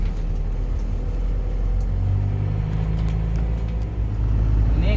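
An Isuzu Panther LS 2004 manual drives on asphalt, giving a steady low engine drone and road rumble heard from inside the cabin, with the engine note rising slightly partway through.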